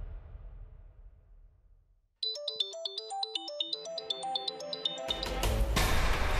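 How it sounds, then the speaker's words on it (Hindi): A melodic phone ringtone starts after a quiet rumble, playing a repeating electronic tune clearly, then noise and activity swell toward the end. "अंश का फोन।"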